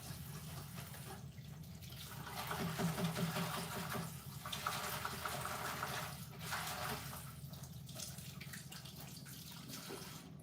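Frozen vegetables rinsed under running water from a tap, a steady splashing wash with a brief louder surge partway through, close and continuous with no speech over it.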